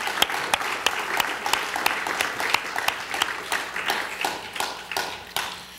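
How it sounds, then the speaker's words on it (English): Crowd applause at an awards ceremony, a continuous wash of clapping punctuated by several sharp, close individual claps, moderately loud and fading slightly toward the end. "How about a round of applause for Steve?"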